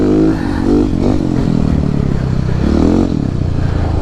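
A Husqvarna 701 supermoto, a 700cc single-cylinder motorcycle, ridden on icy snowy roads, with a loud close engine droning and rising and falling as the throttle opens and eases off over constant wind rush.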